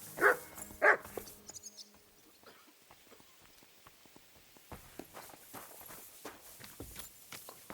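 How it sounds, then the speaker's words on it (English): A dog in Kingdom Come: Deliverance 2 gives two sharp barks close by near the start, then footsteps and soft scuffing carry on at a quieter level for several seconds, with no speech. "Silly doggy."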